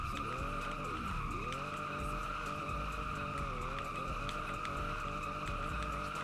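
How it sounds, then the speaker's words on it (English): A limousine drifting at a drift event, tires squealing with wavering pitch over a steady roaring engine, sustained and close throughout. "I took my limo to a drift event, and then this happened."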